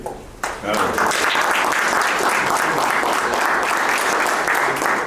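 Sustained audience applause fills a lecture hall on Peru's national crisis, starting abruptly after a brief pause and holding loud and steady for several seconds, with a voice faintly present underneath.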